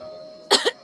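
A single short cough, close and fairly clear, followed by a softer second burst, against a quiet background with a faint steady hum.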